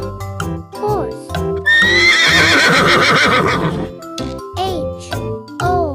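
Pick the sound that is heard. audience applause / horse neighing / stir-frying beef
horse neighing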